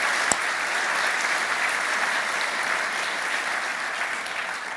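An audience applauds in a dense, even round of clapping that holds steady throughout at moderate loudness, with no voices over it.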